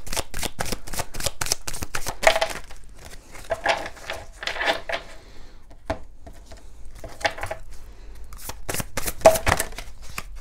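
Tarot and oracle cards shuffled close up, with rapid crisp riffles and flicking bursts broken by short pauses and a few soft slaps, and nobody speaking.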